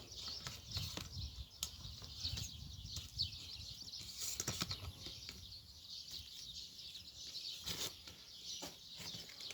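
Pigeons flap their wings in flight near an amateur backyard loft, giving a faint, irregular wash of wingbeats with a few soft chirps in the distance, outdoors and without speech.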